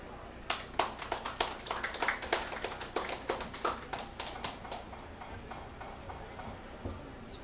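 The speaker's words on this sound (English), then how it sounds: "Please welcome him with a big applause" Sparse applause welcomes a speaker to a talk on ecosystem carbon absorption, a small group clapping in a quick irregular patter that gradually fades out near the end.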